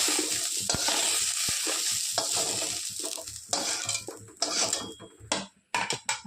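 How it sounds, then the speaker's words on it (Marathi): Green chilies roast in a little oil in a pan, with a loud, close sizzle and hiss, metallic scraping and clinks of a spatula stirring, and the frying fading toward the end as stirring continues. "थोडंसं तेल टाकत आहे हे बघा मिरची भाजून घ्या"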